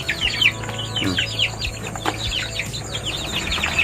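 Free-range village chickens kept with Muscovy ducks in a backyard cluck continuously and close by, overlapping calls over a low steady background hum.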